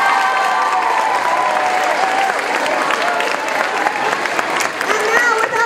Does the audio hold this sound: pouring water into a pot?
no